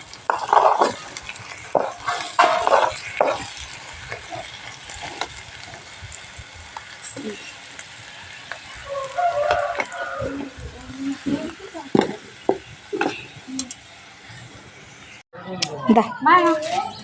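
Food fries in a pan and is stirred in bursts of scraping and clinking over a soft sizzle, with voices talking at times.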